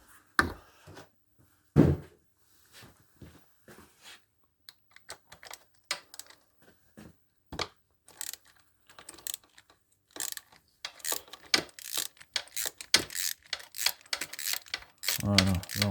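Ratchet wrench loosening a stubborn spark plug on a 2002 Aprilia SL 1000 Falco motorcycle, heard as irregular close metallic clicks and short bursts that grow busier and denser toward the end.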